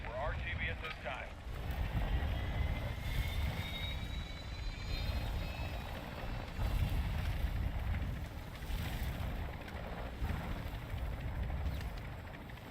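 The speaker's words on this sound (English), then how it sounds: "They're shooting at my heli." A helicopter in the Call of Duty DMZ video game gives a continuous airborne rotor and engine drone with wind-like rushing. It stays steady and fairly loud throughout.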